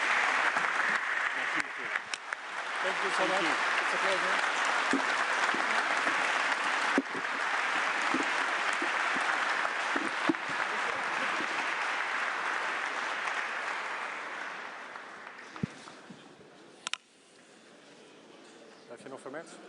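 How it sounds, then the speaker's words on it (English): Applause from the audience at a live EU leaders' event on industry and the single market in Antwerp, broad and sustained for most of the span, thinning toward the end, with a speaker's voice over it. "One more applause."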